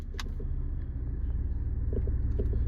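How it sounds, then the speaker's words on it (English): A 2010 Mercury Milan is shifted into gear and pulls away, a low steady engine rumble with faint clicks and road noise, heard from inside the car. "So now what we're going to do is we're going to toss it in gear."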